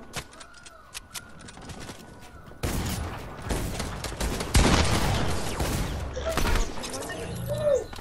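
Video game gunfire with an RPG launcher: sparse sharp shots at first, then a dense, loud burst of overlapping blasts and rapid fire that stays busy to the end, with voices talking over it.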